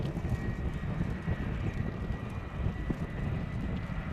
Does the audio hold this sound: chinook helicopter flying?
yes